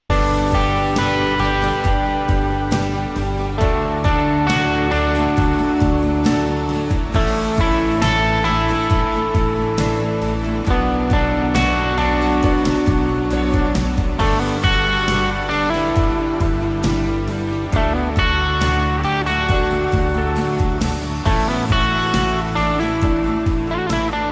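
Guitar through a BigSky plate reverb preset, playing within a full, loud band mix of steady rhythmic chords and layered instruments, with a spacious wash filling the sound throughout and no voices.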